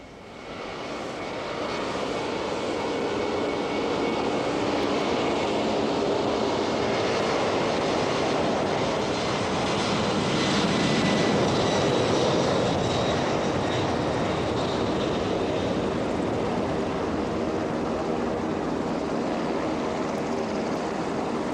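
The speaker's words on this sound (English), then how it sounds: "Here's the takeoff." Jet airplane taking off at an airport in the aftermath of Hurricane Ida, its engines giving a loud, sustained broadband roar that swells slightly and holds steady throughout, with no talk over it.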